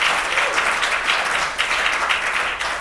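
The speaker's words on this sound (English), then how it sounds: "Somebody clap your hands if you made that" Steady applause from an event audience at a motivational speech, dense and continuous clapping filling the whole stretch with slight swells, no voices standing out.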